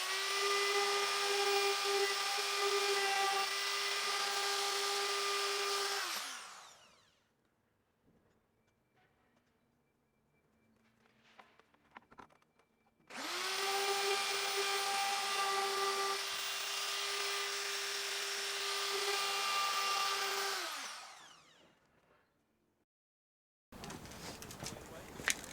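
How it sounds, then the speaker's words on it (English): A power router cuts a groove around timber window boards for a narrowboat rebuild. Two long, loud, steady whining runs spin up and wind down, with a quiet gap between them and a brief burst of machine noise at the end. "I can adjust the router so that more of the actual bit is showing, and then it'll cut a deeper groove all the way around"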